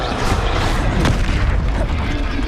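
A Bombarda spell explodes in Hogwarts Legacy: a loud, heavy boom with a sharp crack near the middle, set within a dense, roaring wash of combat noise.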